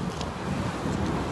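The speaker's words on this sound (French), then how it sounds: "Ouf, le vent l'a fait du bien." Wind blows steadily on a Brooklyn street, a constant rushing roar buffeting the microphone with no break and no voices.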